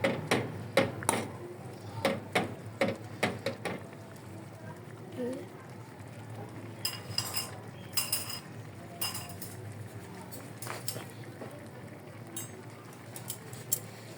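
Cooked noodles being mixed with utensils, a run of sharp metallic clinks and scrapes against a bowl or pan, faster at first, then sparser taps with some quieter rustling.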